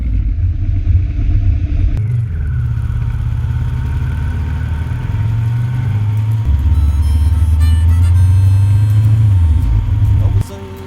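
Motorcycle engine rumbling steadily up close on the Ring of Kerry road in Ireland, a continuous low drone with shifting pitch as the bike rides on, mixed with wind and road noise for the whole stretch.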